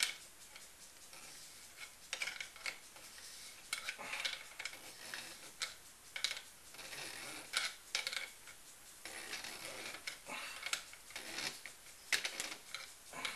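Metal parts of a Law Tactical folding stock adapter being threaded onto an AR pistol, faint irregular clicks, scrapes and ticks from close by, with no talking.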